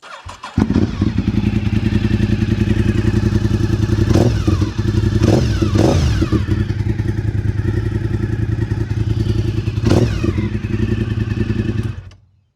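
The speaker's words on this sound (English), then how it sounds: "I will do a startup of this bike" A sportbike engine starts with a thump, then idles loudly and steadily through its exhaust with a few sharp throttle blips before cutting off.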